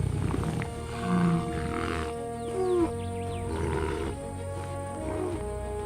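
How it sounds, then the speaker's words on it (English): A lion roars on the African savanna in a series of deep, rumbling grunting calls, rising and falling over a steady background drone. "Its roar is the voice of the savanna itself."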